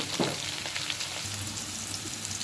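Stalks of leafy greens fry in a hot pan, giving a steady, close sizzle with soft crackles throughout and no voices.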